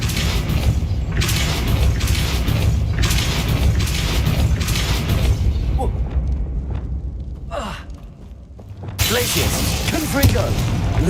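A Depulso force spell in Hogwarts Legacy bursts out with a whooshing, booming blast amid game effects, and a voice calls out the spell's name.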